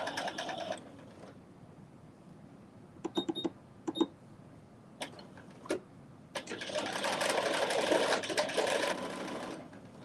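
A sewing machine starts and stops in short bursts, with clicking and whirring stitches between quiet pauses, ending in a longer run.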